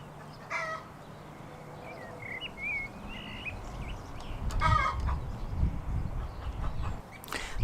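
Chickens being secured in a garden behind stapled chicken netting on a very windy site give soft, scattered clucks and brief calls over steady wind rumble, with a louder burst near the end.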